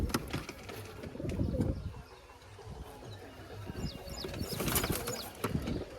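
Pigeons in a loft setup coo and rustle nearby, soft throaty coos mixed with shuffling and a few wing flutters, with background clatter and faint outdoor noise.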